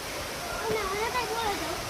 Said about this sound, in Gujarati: તો આ જબરજસ્ત ધોધ પડી રહ્યો છે,